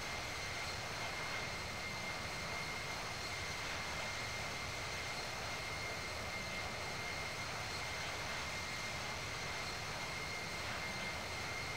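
Airplane engine noise from the Infinite Flight simulator game fills the span as a steady, loud jet roar with a constant whine on top, unchanging and with no talk.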